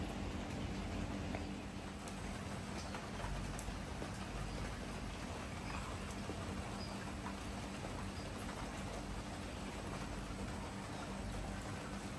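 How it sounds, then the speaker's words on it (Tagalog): Steady rain falls across rice paddies in Ubud, Bali, on a morning, a dense, even wash of patter with no talk, holding constant throughout. "At ngayon, umuulan siya."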